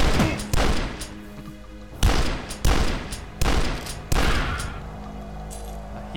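Repeated gunfire in the retro shooter Dusk, with about five heavy, booming shots at irregular intervals, each ringing out over a low rumbling game backdrop; the shots are loud and close, with no talk over them.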